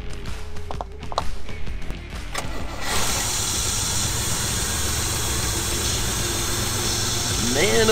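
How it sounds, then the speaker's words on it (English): After a few seconds of scattered handling noises and talk, an Indmar GM LT1 350 5.7L marine engine in a Mastercraft ProStar 190 fires up during an engine flush and settles into a steady, close, loud running drone. "I'm gonna be doing the engine wash at the same time, the engine flush down"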